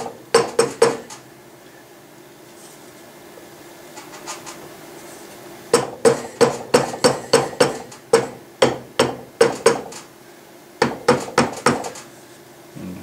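Hammer tapping metal points into a sand casting mold, sharp metallic taps in quick clustered runs of several strikes each, separated by brief quiet gaps.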